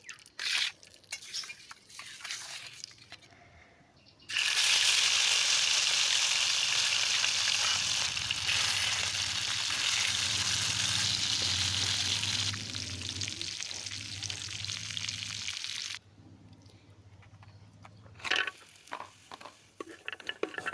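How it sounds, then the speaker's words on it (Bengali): Katla fish pieces rubbed with turmeric and salt hit hot oil on a flat pan in a village kitchen, bursting into a loud, sustained sizzle that later settles, with quieter handling sounds before and after. "এখন আমি চাটুইতে পরিমাণ মতো তেল দিয়ে হলুদ লবণ মাখিয়ে সেই কাতলা মাছের পিসগুলো ভেজে নিচ্ছি"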